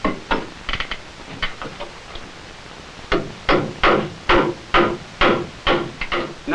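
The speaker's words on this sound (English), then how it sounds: "Now it's also necessary to toe nail the joist into the beam on both sides." Hammer blows toenail a wooden ceiling joist into a beam: a few scattered strikes, then a steady run of sharp, loud knocks in even rhythm, each ringing briefly.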